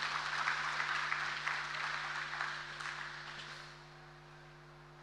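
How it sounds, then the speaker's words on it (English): Audience applauding at the official launch event of the Diaspora Bridge in Nigeria, clapping loud at first and then fading away over a few seconds above a low background hum. "I believe we can make the applause a bit louder for the Honorable Minister of Science, Technology, and Innovation."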